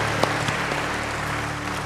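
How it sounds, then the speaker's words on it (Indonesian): Church congregation clapping for God at an Easter service, a steady wash of applause with a few sharper claps standing out, moderately loud and continuous throughout. "Berikan tepuk tangan bagi Tuhan."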